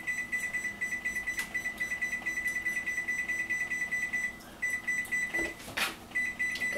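An oven timer beeps as it is set while banana bread bakes at 350 degrees: a rapid, even train of close, fairly loud electronic beeps, a brief pause, then the beeping resumes.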